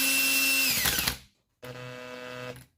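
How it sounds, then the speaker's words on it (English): A power drill whirs steadily at high speed while threading turnbuckles for an RC10B6.4 RC car, winds down to silence, then starts again for another short, even run up close. "Make sure you got the drill going the right way."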